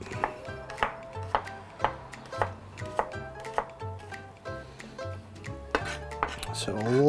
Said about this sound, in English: These cloves are very large, so I'm just going to use two of them. So again, we're going to mince that up.